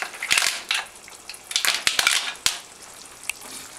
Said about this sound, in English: We're just going to put those right into our boiling sauce.